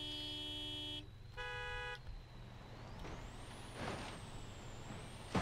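A vehicle in the video game Hunt the Survivors pulls away, its engine droning steadily with a rising whine, after a couple of horn-like tonal toots and a brief air-brake hiss at the start, with no talking.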